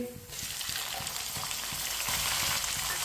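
Finely chopped tomatoes hit browned ginger and garlic frying in a pan for kala chana, setting off a loud, close, continuous sizzle with a rhythmic stirring tap beneath it and no voices.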